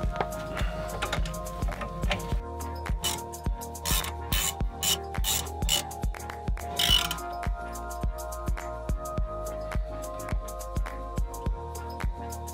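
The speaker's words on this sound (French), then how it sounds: "resserrez les deux vis avec le cliquet et la douille de 16" A ratchet with a 16 mm socket tightening the brake caliper bolts on a Renault Espace IV during a rear disc and pad change: a steady series of faint, close mechanical clicks and rubs in short repeated strokes, with no talk.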